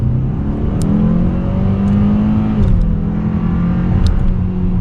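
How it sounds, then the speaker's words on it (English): A 2022 Hyundai Sonata N Line sedan accelerates with a steady, loud exhaust drone and turbo whir, its pitch rising and then dipping slightly as the engine pulls, heard from inside the car with no talk. "you do have a pretty great tone coming from the Sonata N Line with the exhaust"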